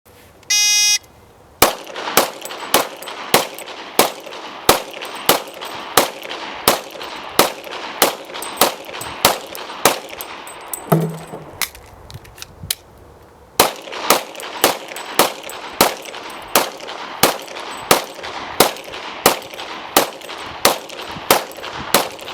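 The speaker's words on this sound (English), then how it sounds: "Christy is going to demonstrate by shooting the 2 15-round magazines at our 3 targets" Rapid gunshots ring out sharply at a steady rhythm as two 15-round magazines are fired at three targets on a range, with a short pause partway through, likely a magazine change, before the shots resume.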